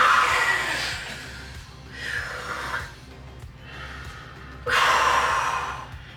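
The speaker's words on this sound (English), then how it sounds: "It's really hard to catch your breath." A person gasps heavily, struggling to catch their breath after getting out of cold water, with four loud ragged breaths in a row, close to the microphone.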